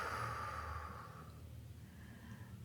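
A single soft, slow exhale of breath during a guided yoga breathing exercise, close and quiet, trailing off toward the end.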